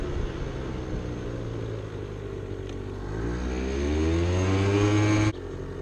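A Zuma scooter at full throttle hums steadily close by, its small engine note slowly climbing as it picks up speed, then cutting back abruptly near the end.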